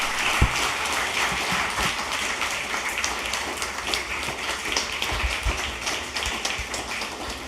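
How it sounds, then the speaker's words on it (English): Audience at a literary festival in Trinidad applauding, a steady dense wash of clapping from a crowd, sustained and fairly even for the whole stretch. "give a big round of applause to the excellent editors of the book."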